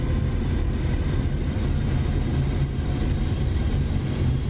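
An SR-71 in the DCS flight simulator descending for landing, a steady dense engine and air roar holding evenly throughout, loud and constant with no talking.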